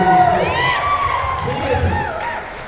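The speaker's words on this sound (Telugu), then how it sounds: "ఒకసారి అందరూ స్టాండింగ్ ఓవేషన్ ఇచ్చి క్లాప్స్ కొట్టాలని మనస్ఫూర్తిగా" A crowd at a Telugu movie pre-release event for Premante gives a standing ovation, with loud, close cheering and high whoops and shouts that swell, then ease slightly over a few seconds.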